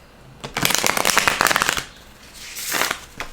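A deck of tarot cards riffles and flutters for over a second, then a softer second shuffle follows, close up and without speech.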